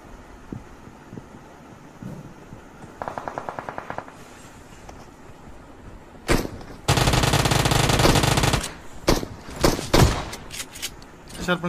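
Gunfire from PUBG / BGMI mobile game play: a quick burst of automatic fire, then a long loud sustained spray, followed by several separate sharp shots, over faint background game hum.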